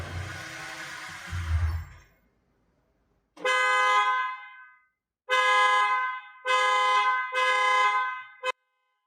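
After some rustling and a pause, a car horn triggered by a StarLine anti-hijack alarm blares loudly in four long blasts, the last cut short by a quick toot.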